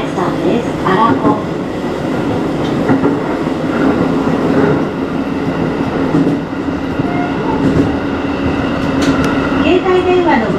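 Aonami Line train in Nagoya running on rails toward Kinjo-futo, a constant loud interior rumble with rhythmic wheel clatter and occasional brief squeals, an automated announcement voice speaking over it.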